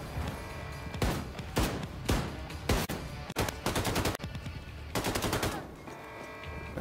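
Rapid enemy gunfire in the shooter Wolfenstein II: The New Colossus, loud bursts of automatic fire with sharp broadband cracks repeating through the clip, nearly continuous volleys with short gaps between them.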